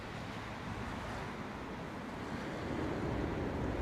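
Strong storm wind roars at London Heathrow Airport during Storm Éowyn, a dense, continuous rush buffeting the microphone and growing slightly louder toward the end, with no voices.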